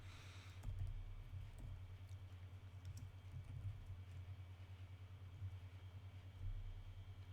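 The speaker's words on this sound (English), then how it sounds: "I'm just typing in blops to my thing." Typing on the keyboard of a 2019 Acer Predator Helios 300 gaming laptop: quiet, irregular key clicks scattered over a steady low fan-like hum, with no talking.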